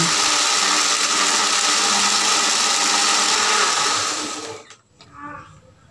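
A kitchen blender whirs loudly and steadily, grinding red chilies coarsely for mango asinan, then winds down and stops after about four and a half seconds, leaving quiet handling sounds.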